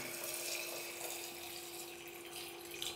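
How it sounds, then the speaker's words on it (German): Purified water pours steadily into a glass jar of buckwheat, a continuous close splashing, trickling stream with no voices. "Und dann tun wir ein gereinigtes Wasser drauf."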